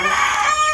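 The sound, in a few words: Sebright chickens clucking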